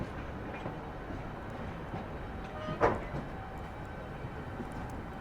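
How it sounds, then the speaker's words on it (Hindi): A WG9 locomotive shunting in a rail yard near a loco shed, its traction motors giving a steady low hum with a faint whine, one brief louder clank near the middle, continuous and moderately distant. "ट्रैक्शन मोटर्स का आप लोग साउंड सुनिए।"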